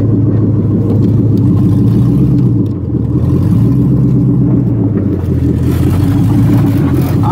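A Mazda RX-7 FD with a swapped LS V8 engine runs with a steady low rumble and a slight rise in revs, close by and loud, with no talking.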